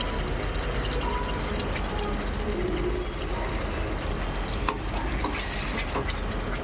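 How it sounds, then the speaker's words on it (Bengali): Spices being fried and stirred in a pan for a Jagannath bhog offering, a steady sizzle with scraping and clinking of the utensil against the pan, continuous and close, with no voices. "মশলা দিয়ে কষিয়ে নিচ্ছি"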